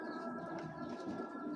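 Pigeons, a male and a female kept as pets, coo softly in a low murmuring drone, faint and close, with a steady background hum and no talking.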